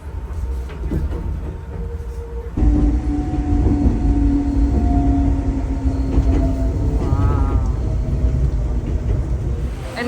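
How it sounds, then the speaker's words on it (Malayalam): Inside an Enoden train in Japan, a steady rolling rumble and rattle of the carriage on the rails fills the whole stretch, growing louder partway through, with a faint tonal whine above it. "എൻ്റെ ലൈഫിൽ ഏറ്റവും ബ്യൂട്ടിഫുൾ ആയിട്ടുള്ള ട്രെയിൻ റൈഡായിരുന്നു ഈ എനോഡൻ റൈഡ്."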